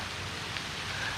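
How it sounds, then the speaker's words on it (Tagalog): Heavy rain pours on Tubabao Island, a dense, steady hiss of falling water that fills the whole moment without a break. "nagtuloy-tuloy na yung lakas ng ulan."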